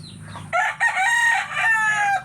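A rooster on a mini farm crows once, close and loud, a single drawn-out call of about two seconds over low background noise.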